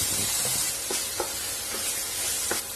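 Chopped tomatoes sizzle steadily in a hot pan, with a constant hiss and a few soft clicks and stirring taps.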